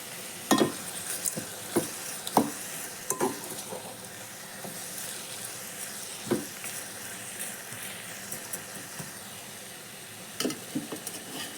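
A tomato gravy for a field bean kuzhambu bubbles and sizzles in a pan under a soft continuous hiss, broken by frequent sharp scrapes and knocks of stirring.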